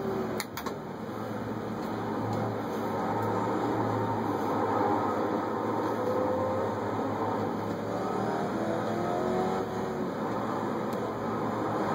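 A racing car engine in the SimVibe racing simulator drones steadily for twelve seconds, with a sustained mid-range hum, a few faint rising whine traces and some brief clicks near the start.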